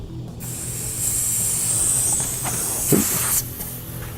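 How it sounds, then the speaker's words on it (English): Compressed air from a canister hisses steadily into a tire through the valve stem on a wilderness tire repair kit, a sustained close hiss with a few brief clicks and fittings shifting near the end. "We'll go ahead and add some more air."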